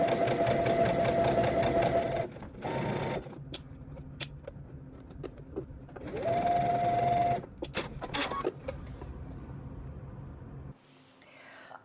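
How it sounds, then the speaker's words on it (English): A sewing machine whirs in two steady bursts of stitching close to the edge of a dress bodice, separated by quieter clicks and handling noises. "now we're going to head to the sewing machine, and you're going to stitch close to the edge"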